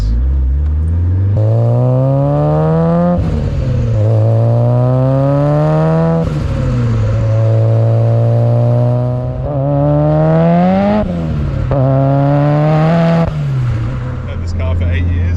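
A Nissan 180sx with a 660 hp 2.35 L Tomei billet stroker engine revs up through several gears in close succession, each pull rising in pitch before a shift, loud and heard from inside the cabin.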